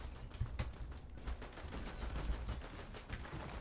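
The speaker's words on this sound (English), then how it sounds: "It's like a burst AR." Rapid bursts of assault rifle fire in a video game, dense crackling volleys repeating under a steady noisy backdrop with no talk.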